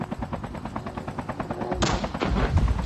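Rapid automatic gunfire from a Call of Duty Season 9 squad match, a steady stream of quick shots that grows denser and louder toward the end, with no talk over it.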